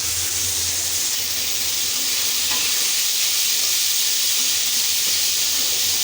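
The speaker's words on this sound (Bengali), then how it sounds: "আমি পেঁয়াজটাকে একটু ভালো করে ভিজে নেব। আমি তেল ব্যবহার করছি খুবই কম।" Onions frying in a small amount of oil in a pan, giving a loud, close, steady sizzle and hiss that continues unbroken throughout, with no voices.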